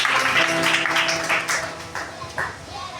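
A church congregation claps to acclaim the arrival of the year 2025, a dense, steady crowd applause that carries right through and eases off toward the end, with voices mixed in underneath.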